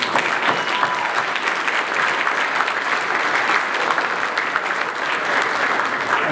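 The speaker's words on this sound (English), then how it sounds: "wherever you are, round of applause" A large audience at a Cyber Security Hall of Fame induction ceremony breaks into steady, dense applause that holds at full strength for the whole stretch, with no voices over it.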